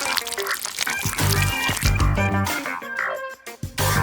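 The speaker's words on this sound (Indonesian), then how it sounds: "Tuang saus ke dalam coklat berbentuk belahan ini." Thick sauce poured into a hemisphere-shaped chocolate mould for a chocolate bomb, heard as a continuous close pouring and dripping with wet splashes and brief clatters, no talking.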